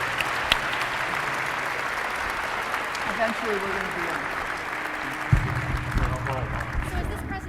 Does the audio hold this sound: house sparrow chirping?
no